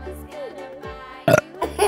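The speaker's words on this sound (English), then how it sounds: "It's time to burp her." A baby doll toy making short electronic burping sounds, two loud bursts near the end following quieter tonal toy noises, close and with no talking.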